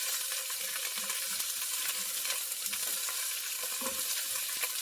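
Paella ingredients stirring and sizzling in hot oil in a pan, a steady close frying hiss with crackling pops and occasional scraping from stirring throughout.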